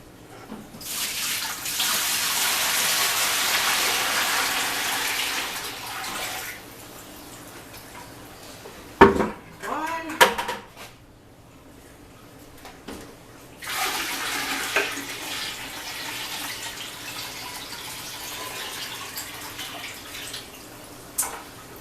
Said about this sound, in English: Now, just add the water.